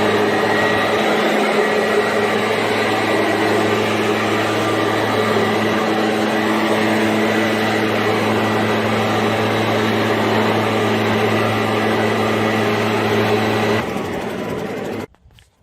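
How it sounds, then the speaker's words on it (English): A leaf blower runs steadily at close range, blowing dust off a stamped concrete patio slab, a continuous whining roar that holds unbroken for about fourteen seconds before cutting off abruptly. "First thing I always do is put the leaf blower to it and blow off any dust before I seal"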